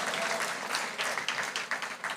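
A church congregation claps together in broad applause, a steady dense patter of many hands that holds through the whole moment with small swells.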